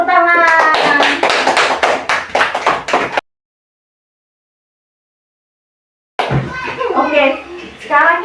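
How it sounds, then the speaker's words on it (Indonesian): Children clap their hands together in a classroom science lesson, a quick run of claps mixed with young voices and singing for about three seconds, then silence before a teacher's voice returns. "oke, tepuk tangan"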